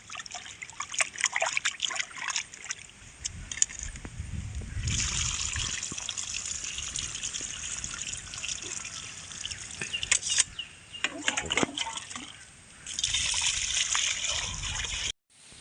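Running water splashes and trickles while chicken pieces are rubbed and rinsed by hand, with bursts of gushing flow and brief pauses.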